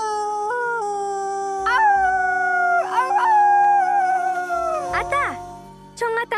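In Alaska's Denali wilderness, a wolf gives a series of long, sliding howls, one after another with short breaks, clear and fairly loud. Some rise and then drop away, ending in a few quick yips near the end.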